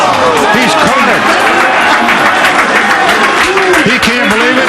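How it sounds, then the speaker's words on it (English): A crowd at a World Poker Tour Grand Prix de Paris table erupts after a miracle river card, a loud continuous roar of cheering and shouting, with a commentator's voice over it. "Well, the crowd goes crazy here."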